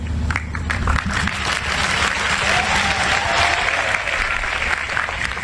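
An audience applauds after a child answers questions on stage, a dense, steady wash of clapping from many hands lasting throughout, fairly loud and continuous.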